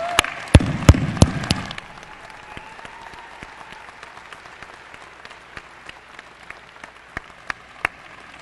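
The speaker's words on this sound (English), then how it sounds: "I think you and I owe the faculty a great round of applause" A burst of loud applause from a university convocation crowd for under two seconds, then it cuts off, leaving scattered faint claps and small noises in a quiet room.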